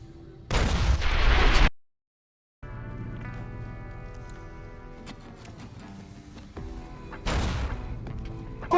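Video game combat: two loud, broadband blasts, one near the start and one near the end, like grenade explosions, with a cut to silence after the first and a busy stretch of game sound and scattered gunfire in between.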